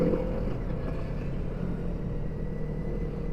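A steady, close-up engine drone comes from a QJ Motor SRK 250, a two-cylinder 250cc sport motorcycle with an automatic, clutch-free gearbox. The low hum runs unbroken at an even level, with no speech.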